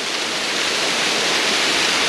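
Water pours steadily over Linda Falls, a mossy waterfall, as a continuous, even rushing roar that holds close and loud throughout, with no voices.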